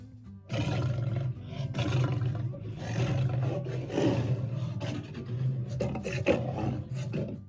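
A lion's roar from a Unity game scene, triggered as the player approaches, rumbles loud and close in long continuous growling bursts that fill the whole stretch with no talk.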